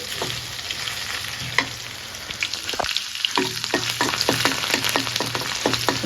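Spice paste and garlic sizzle steadily in a hot pan, a dense crackling hiss with repeated sharp stirring scrapes and clicks, close and loud throughout with no talk.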